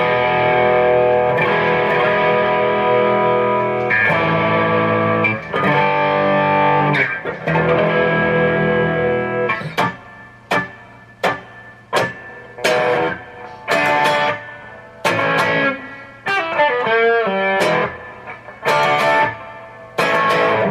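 An electric guitar played through overdrive distortion, first sustained crunchy chords, then a run of sharp stabbed chords separated by short gaps, loud and close with no talking.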